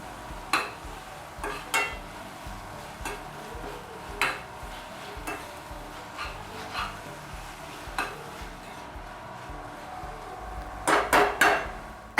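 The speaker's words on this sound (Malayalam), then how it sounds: "സവാള ചെറുതായിട്ട് സ്ലൈസ് ചെയ്തത് ചേർത്ത് കൊടുത്ത് നല്ലതുപോലെ ഒന്ന് വഴറ്റി കൊടുക്കാം." Sliced onions sauté for a Kerala chicken curry, with a low steady sizzle broken by periodic knocks and scrapes of a spatula on the pan, plus a quick cluster of clanks near the end.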